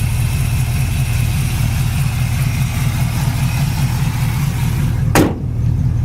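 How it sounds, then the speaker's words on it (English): A 1969 Chevrolet Camaro with a V8 engine idles steadily and close by, a low, even rumble with one brief sharp knock near the end and no voices. "the engine runs absolutely excellent"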